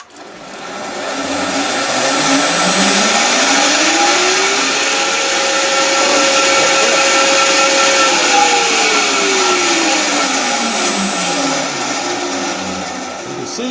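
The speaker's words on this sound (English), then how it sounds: "I'll just be able to slice this right off with the bandsaw." A bandsaw slices off the damaged foot of a segmented wooden turning, a steady loud whine with a rising then falling tone as the blade works through the cut, running continuously without speech.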